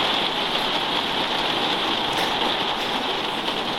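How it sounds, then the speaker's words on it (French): Gentle rain falls steadily on a parked camper van in Portugal, a soft continuous patter and hiss with no voices. "Écoutez le doux son de la pluie"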